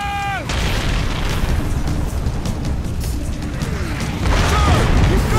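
A mortar shell explodes during combat in the video game Crysis Warhead, a loud sustained boom and rumble with debris, following a brief descending whistle at the start and swelling again near the end.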